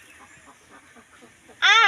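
A single loud, harsh quack from a household duck comes suddenly at the end, after a stretch of soft, low background murmur.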